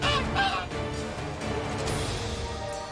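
Caged bird honking in The Witcher 3, loud repeated goose-like honks close by, with game music or ambience underneath.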